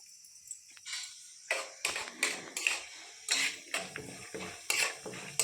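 Utensils clatter and scrape against a pan while a tempering with curry leaves fries, giving a series of sharp metallic clinks and stirring knocks at an irregular rhythm over a faint sizzle.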